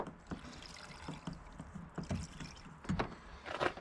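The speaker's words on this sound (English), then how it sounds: "I'm just going to add in a splash of water to this" A splash of water is poured into a camp meal, with soft trickling and a few small knocks and splashes close up, quiet and without talking.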